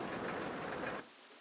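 Steady rain and a low rumble of thunder from the game RollerCoaster Tycoon Classic fill the first second with a dense wash, then cut off abruptly into near silence; no voices.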